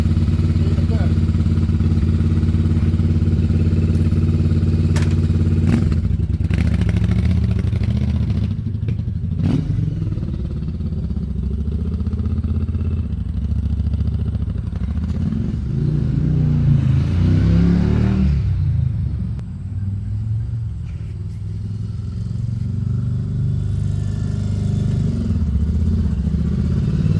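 A Yamaha Virago 750 chopper motorcycle rides up the road, its engine droning and revving loudly and close throughout, with wind and rumble shifting as it accelerates.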